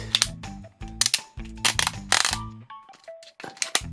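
A Tobot V Twinblade plastic transforming toy has a part folded out by hand, giving a close series of sharp plastic clicks and clacks in quick irregular bursts, with short pauses between handling noises.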